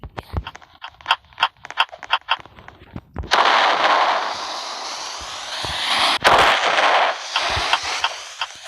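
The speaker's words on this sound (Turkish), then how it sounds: "Kim atıyor bu bombaları?" A string of sharp bangs and pops from bombs exploding in a video game, then a loud sustained roaring blast with rumbling explosions, dense and close, with no talking.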